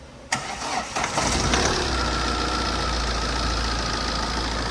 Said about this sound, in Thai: ก็กองหน้าหลังอ่ะสตาร์ทเครื่องดูนะ